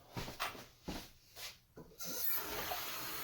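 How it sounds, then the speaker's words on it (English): Hands are washed under a running tap: faint, uneven splashes and rustles at first, then a steady stream of water that continues to the end. "I'm going to wash my hands very thoroughly"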